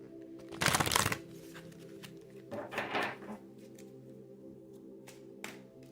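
Angels of Atlantis oracle cards are shuffled in two brief riffling bursts, close and soft, over a low steady background hum.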